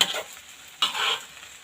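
Vegetables are stir-fried in a pan, with two bursts of sizzling and spatula scraping, one at the start and a louder one midway, separated by a quieter hiss.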